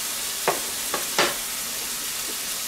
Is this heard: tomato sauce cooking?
yes